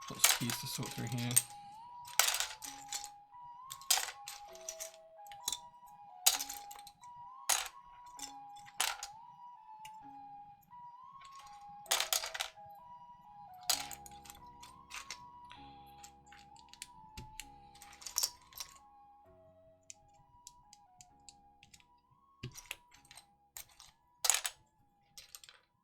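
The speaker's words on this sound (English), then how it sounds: "Lots of keys to sort through here." Plastic keycaps from an Optica or Snake R2 mechanical keyboard build clink and clatter in sharp, scattered bursts while being sorted, with a steady tone running underneath.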